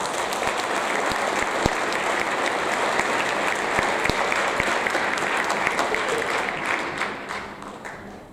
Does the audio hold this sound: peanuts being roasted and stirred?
no